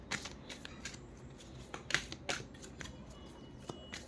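Angel oracle cards being shuffled by hand, a soft run of papery riffles and flicks with a few sharper snaps, quiet and close with no talking.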